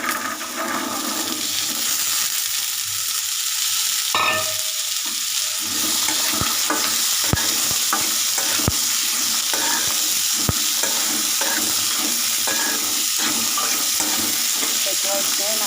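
Spices and chickpeas fry in a pan with a loud, dense sizzle, steady throughout, punctuated by sharp utensil clicks and taps against the pan.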